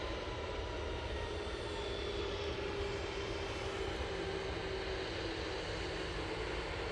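A Brussels Airlines airliner taxis at Manchester Airport, giving a faint, distant, steady engine rumble and hum that stays even throughout with no voices.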